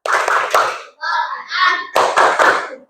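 Group of children doing a rhythmic salute clap in a classroom, two sharp bursts of quick patterned claps close by, with chanted voices in between.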